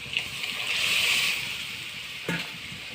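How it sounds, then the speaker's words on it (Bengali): Water is poured into a cooking pot holding dal, a brief close hissing splash that swells and fades, followed by a faint knock. "ডালটা ঢেলে দেবো। আর একটু জল দিয়ে দেবো।"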